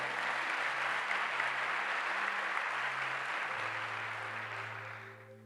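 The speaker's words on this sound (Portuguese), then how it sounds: "Você pode aplaudir o nome de Jesus aí?" A church crowd applauds steadily, a dense wash of clapping that slowly fades toward the end, with sustained organ-like tones underneath.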